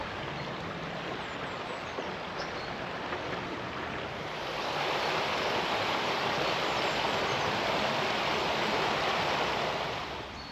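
A stream flows beside a bridge and cottages in the Derbyshire village of Baslow, a steady broadband rush of water that swells louder partway through, with no voices.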